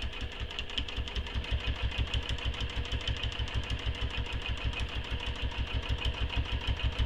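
A sewing machine topstitches a nylon bag panel, running steadily with a fast, even mechanical stitching rhythm close by, no talk.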